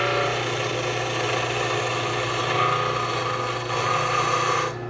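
A skew chisel shaves wood spinning on a lathe while an ice cream scoop is turned, giving a steady close scraping rasp over the lathe's low hum that runs continuously before cutting off abruptly at the end.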